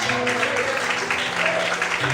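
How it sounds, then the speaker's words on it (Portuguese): Church congregation clapping loudly during a worship service, dense continuous applause mixed with sustained organ or keyboard tones underneath. "Será que você pode glorificar a Deus por isso e aplaudir o Senhor bem forte?"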